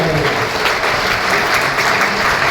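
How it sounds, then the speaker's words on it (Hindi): Loud, dense applause from the audience at a Hindi poetry gathering, many hands clapping together in a continuous, even roar that fills the room. "एक बार जोरदार तालियां बजाइए"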